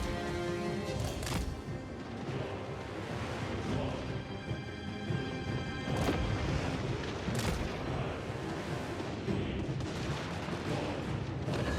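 Handgunners fire volleys in a medieval strategy battle, a dense, continuous roar of crackling gunshots and booming blasts layered over clashing battle noise, loud and unbroken throughout.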